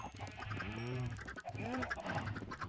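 Honking, squawking fowl calls from Minecraft chickens repeat in quick succession, dense and fairly loud, resembling poultry noises from a game soundtrack.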